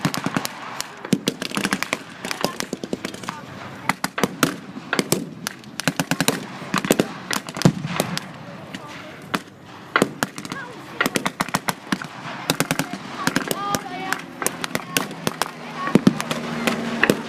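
Gunfire from German StuG assault guns firing on a British 6-pounder anti-tank gun in a battle, heard as rapid, irregular bursts of sharp cracks and pops continuing steadily throughout.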